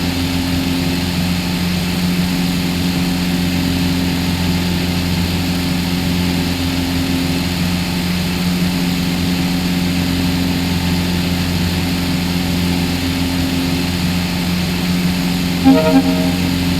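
A propeller aircraft engine drones steadily on the approach to a runway in Microsoft Flight Simulator X. The hum stays constant and fairly loud throughout, with a brief higher tone near the end.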